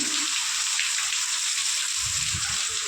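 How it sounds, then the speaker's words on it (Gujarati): Heavy rain with strong wind in Jamnagar, a dense, even hiss of downpour holding steady and loud from start to finish, with low gusty rumbles swelling near the end. "वरसाद ने फूल अतिशय पवन ने बहु ज वरसाद चालू थई गयो छे"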